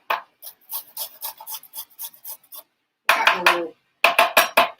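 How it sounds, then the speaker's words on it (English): A small kitchen grater rasps garlic in quick, rhythmic strokes, a series of short dry scrapes in two bursts separated by brief pauses, close and fairly loud with no talk over it. "I cheat with my little tiny grater"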